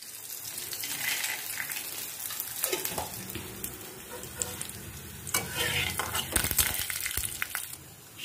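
Peanuts frying in hot oil in a home kitchen, a steady close sizzle with stirring scrapes and crackling spatters that grow louder and denser toward the end, with no talking.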